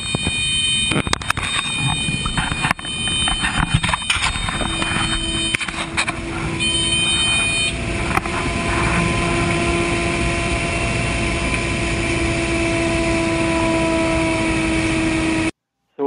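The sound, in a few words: aircraft engine abruptly starting and revving in doctored audio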